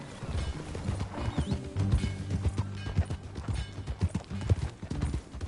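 Rhythmic hoofbeats clip-clopping close by in the video game Red Dead Redemption 2, with a horse snorting and whinnying and some low rumbling in the background; no talking.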